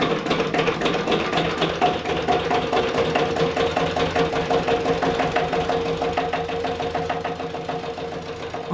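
Engines running in a village, a steady loud mechanical chugging with a rapid knocking rhythm that keeps on throughout, with no voices.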